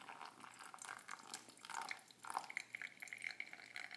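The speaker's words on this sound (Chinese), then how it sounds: "接下来要做的就是烧开的热水慢慢的浇在你的 filter 上面" Hot boiled water dripping and trickling through a pour-over coffee filter, faint irregular drips and soft liquid patter at close range with no voices.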